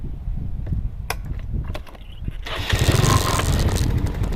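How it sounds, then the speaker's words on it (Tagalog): A motorcycle engine turns over and catches, rising from low sputtering rumble into a louder, steadier running roar, close by and without talk. "Paandarin ko po yung makina."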